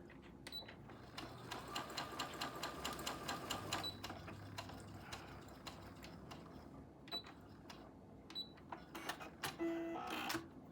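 A sewing machine runs steadily on its start button with no foot pedal while a cow head appliqué is quilted, its rapid mechanical stitching clatter close and continuous, with a few brief pauses and clicks near the end.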